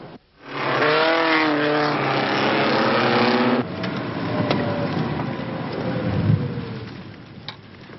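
A Renault R5 drives down the slope from the workshop, its engine roaring loudly with rising revs before easing into a rumbling roll with road and wind noise.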